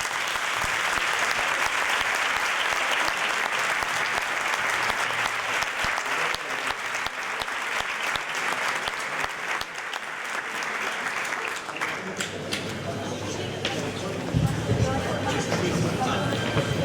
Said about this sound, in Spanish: quiero pediros un aplauso muy fuerte para Rocío.